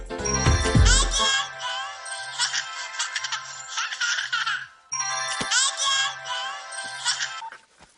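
A phone ringtone plays a bright, repeating electronic melody, loud and close, with a brief pause before the tune starts again.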